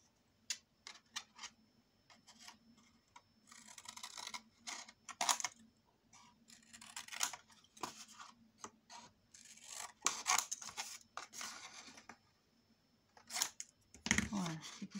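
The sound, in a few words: scissors cutting the corners of paper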